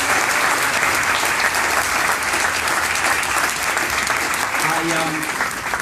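A political rally crowd in Roanoke claps steadily, dense applause filling the room for the whole stretch, with some voices mixed in beneath the clapping.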